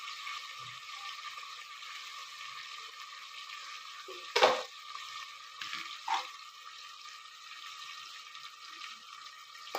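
Onions frying in a pan for vegetable pulao, a faint steady sizzle with a few sharp spoon scrapes and clinks.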